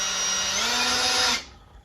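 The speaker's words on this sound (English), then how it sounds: "be using a right angle drill. So basically you just chuck on here, and then you start driving here." A right angle drill drives a Southwire MAX Punch knockout punch, a loud steady whine that climbs slightly in pitch, then cuts off abruptly after about a second and a half, leaving quiet room tone.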